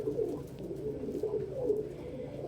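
Pigeons coo steadily in low, throaty rolling phrases while foraging for food among a flock, the soft repeated calls continuous and fairly close throughout.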